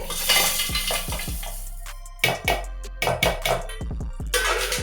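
Clattering kitchen sounds as a mixture is tipped into a mixer-grinder jar, with repeated knocks and scrapes of a spoon against the container, close and fairly loud.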